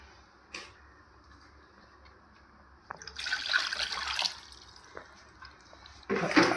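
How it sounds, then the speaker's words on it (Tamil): Water is poured into a pressure cooker holding country chicken for a curry, with soft drips and then two louder splashing pours in the quiet, close by. "அது வேகத்துக்கு தேவையான அளவு தண்ணி சேர்த்துக்கலாம்."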